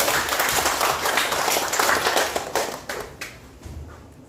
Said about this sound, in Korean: 열렬한 축구 박수 한번 해주십시오.